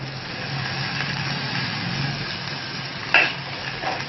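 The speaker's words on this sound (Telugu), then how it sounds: "ఉల్లిపాయ ముక్కలు బాగా వేగిపోయాయి. ఇప్పుడు దీంట్లో కరివేపాకు వేసుకుందాం." Curry leaves frying with sautéed onions for Andhra-style pappu charu, a steady low sizzle with stirring and one sharper clink of a spoon near the end.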